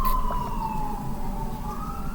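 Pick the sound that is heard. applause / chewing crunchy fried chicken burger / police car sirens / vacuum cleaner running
police car sirens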